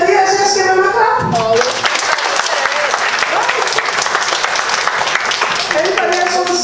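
A church congregation at an Advent Sunday Methodist service breaks into loud, sustained applause that continues to the end, after a brief voice at the start.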